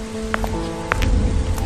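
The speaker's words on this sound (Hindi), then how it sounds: "आज इतनी तेज बारिश थी" Heavy rain pours steadily on a surface, a dense broadband hiss with a low rumble underneath and a few brief sharper drops or clicks rising out of it, with no voices.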